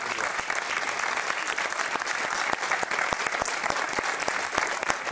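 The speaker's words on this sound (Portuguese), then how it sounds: "um forte aplauso ao Bruno Nogueira" A studio audience on a morning TV programme applauds steadily and densely throughout, an even wash of many hands clapping.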